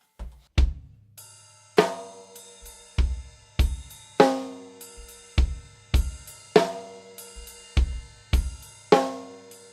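A drum kit plays a ride cymbal groove, bright shimmering cymbal strikes ringing over punchy kick and snare hits in a steady repeating pattern, close and alone without talk.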